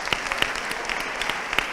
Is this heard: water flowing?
no